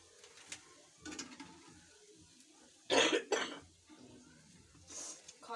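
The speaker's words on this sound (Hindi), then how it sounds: "खांसी आ गई हुई है इतनी ज़्यादा।" A woman at home during the rainy season coughs in several bursts, a couple of sharp harsh coughs standing out loudly in the middle against quiet background noise.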